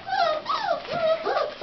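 Several young puppies whimper and yip in a string of rising and falling high whines, close by and fairly loud, with no talk over them.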